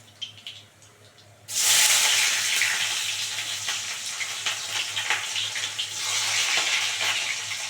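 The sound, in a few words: chopped onion and kalonji frying in hot oil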